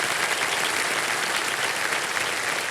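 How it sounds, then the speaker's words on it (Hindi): Studio audience applause on a TV quiz show, a steady, loud wash of many hands clapping continuously without a break, greeting a contestant's brother as a companion. "तालियां बज जाए हमारे कंपेनियन के लिए।"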